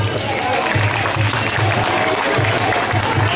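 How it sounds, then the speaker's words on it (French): An audience at a Muay Thai club association day applauds a demonstration, a dense, steady clapping with a rhythmic low thumping pulse underneath. "On peut l'applaudir."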